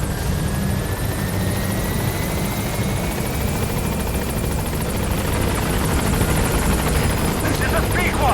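A helicopter comes in to a landing zone in the video game Metal Gear Solid 5, its rotor chop a loud, steady drone that fills the whole stretch while a radio voice speaks over it.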